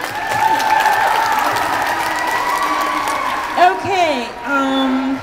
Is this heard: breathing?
no